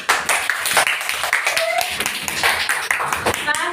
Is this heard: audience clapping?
yes